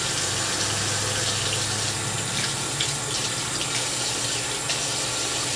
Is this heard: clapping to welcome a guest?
no